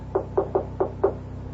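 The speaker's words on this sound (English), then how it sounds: "Who knocks?" Knocking on a door as a radio drama sound effect: five sharp, evenly spaced knuckle raps, close and clear, followed by a moment of quiet.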